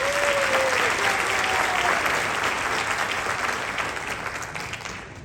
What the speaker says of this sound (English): Please join me in giving a round of applause to all our junior recipients.